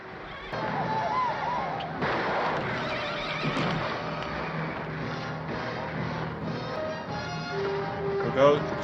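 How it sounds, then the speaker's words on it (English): Gunfire from a battle scene in the 1953 Western film Hondo, scattered loud reports mixed with horses whinnying and hooves clattering, with shouted voices over a busy, sustained soundtrack. "aside from a lot of gunfire"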